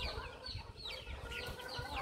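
Backyard hens cluck in a busy, overlapping chatter, with short bird calls repeating throughout against a steady, fairly loud outdoor background.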